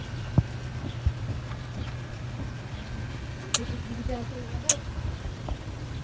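A motorcycle ride on a hot day, its engine holding a steady low drone beneath constant road and wind noise, with a few sharp clicks and faint muffled voices along the way.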